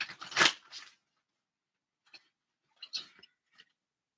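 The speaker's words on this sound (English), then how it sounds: "let me shuffle one more time." Tarot cards being shuffled during a Cancer reading: a crisp, dense riffle of cards up front, then a pause followed by a few soft, scattered card slaps and flicks, close and fairly quiet with no talking.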